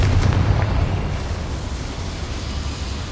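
Confringo fire spell blast in the Hogwarts Legacy video game, a loud booming explosion at the start that rolls into a sustained low rumble and crackle lasting a few seconds.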